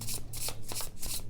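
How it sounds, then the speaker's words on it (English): Close, crisp riffling of tarot cards being shuffled by hand, several quick swishing bursts in a row with no talk. "just listen to them shuffle"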